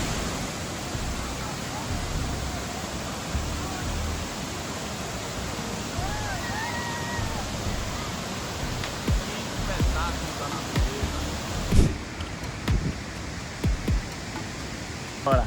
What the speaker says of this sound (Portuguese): A altura dessas cachoeiras, queda d'água muito bonita.